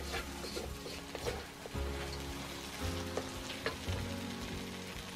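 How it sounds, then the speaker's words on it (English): Pork and noodles stir-frying in a wok, Chinese takeaway style, giving a continuous soft sizzle with intermittent stirring scrapes and taps, fairly quiet and close. "And keep stirring till golden brown."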